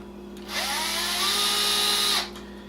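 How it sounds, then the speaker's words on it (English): A power drill spins out screws on an engine with a throttle linkage and fan shroud, a steady whirring burst of about two seconds that starts and stops abruptly, loud and close. "So we're going to remove these screws here."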